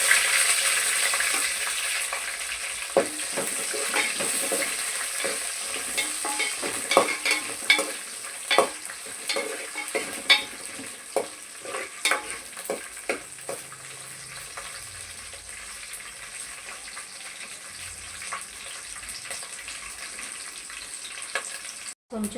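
Onions, green chillies and tomatoes sizzle steadily in a hot pan, with frequent scraping stirs and clinks of a utensil throughout; no one speaks.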